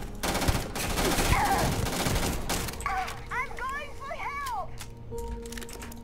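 Dense bursts of rapid gunfire from the video game Starfield fill the first half, loud and continuous like a firefight, then give way to laser-like chirps and sweeping electronic tones over a steady hum.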